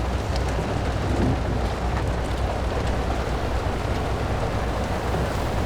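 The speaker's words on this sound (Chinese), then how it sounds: "怎么就突然下雨了呢？" Sudden heavy rain makes a loud, constant rushing hiss with a faint low rumble beneath it, steady and unbroken throughout.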